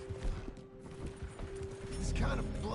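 Horses' hooves clip-clop in a steady rhythm on a farm track, mid-distance and moderately loud, mixed with creaking tack and a faint whinny, while a person speaks over them.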